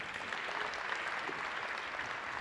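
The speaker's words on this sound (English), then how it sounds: "Give another round of applause." An audience at the 2021 RUDYS awards night gives a round of applause. The clapping is soft and sounds distant, holding steady with no voices over it.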